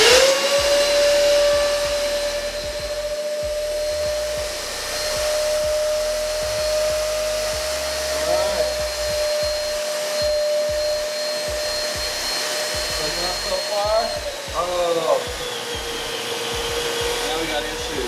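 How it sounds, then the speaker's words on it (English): A standard household vacuum cleaner sucks up water, its motor whining at a steady high pitch with gurgling, sputtering slurps of liquid; near and loud, the pitch dipping briefly as water chokes the intake. "standard vacuum, suck up water, you got major issues."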